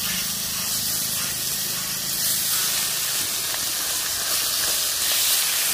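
Hilsa fish sizzles steadily in a pan of mustard oil, a close, even crackling hiss that holds at the same loudness throughout with no talk over it.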